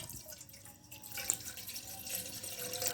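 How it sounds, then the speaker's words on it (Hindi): Water pours into a pot on a lit stove for homemade herbal tea, a faint, continuous trickling and splashing with no speech. "पानी ऐड करते हैं"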